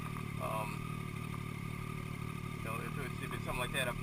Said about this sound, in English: I'm waiting for my bike to warm up.